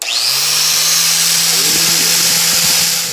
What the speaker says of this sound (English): Angle grinder, of course, no guard, no handle on this thing. It's just raw power.